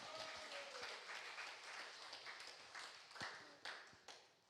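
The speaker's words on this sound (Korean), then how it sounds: "박수 한번 칩니다." A church congregation claps during a Sunday afternoon worship service, a faint, scattered patter of hands with a few sharper individual claps toward the end.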